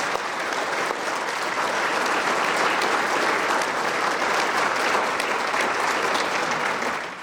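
Sustained applause from a large crowd, steady and loud throughout, tapering slightly at the very end.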